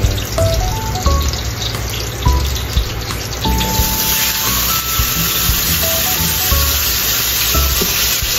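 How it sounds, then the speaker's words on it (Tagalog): Garlic and chicken sauté in a pan for adobo, a steady loud sizzle and crackle with occasional clinks of a utensil, with no voices over it. "gigisahin lang din natin yung meat dito or yung chicken side by side para well done"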